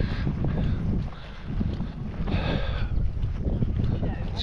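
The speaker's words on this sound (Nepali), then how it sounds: "हावा" Wind gusts along the Seven Sisters chalk cliffs on a coastal hike in the UK. A continuous low, rumbling roar buffets the microphone, swelling and easing in waves.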